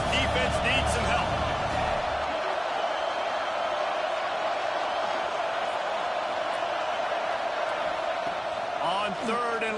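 Stadium crowd roaring steadily in a college football video game, a dense continuous wash of cheering from a packed crowd facing USC, with commentary over it.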